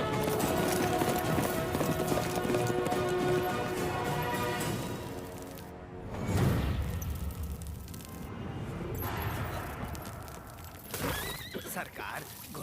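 Horse hooves clip-clop under a dramatic movie scene, mixed with loud speech, whinnies and swelling music, and a brief impact partway through.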